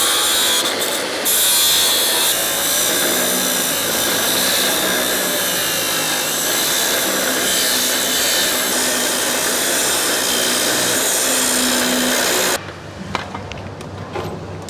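A power tool cuts out a bolt that had been welded in place with a pin, giving a steady, loud grinding and sawing roar that runs for about twelve seconds before stopping abruptly, leaving quieter clatter.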